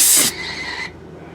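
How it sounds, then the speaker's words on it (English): A loud burst of high-pitched air hiss at the start, dropping to a steadier, softer pneumatic hiss before cutting off. "fitting noise you're hearing is an air blaster."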